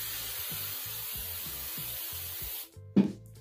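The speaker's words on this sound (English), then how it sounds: "Again, you spray and you shake." A spray paint can hisses in a run of short rhythmic bursts onto a glass bottle during a masking-tape design job, then the bursts stop and a brief louder clatter follows, heard up close with no voices.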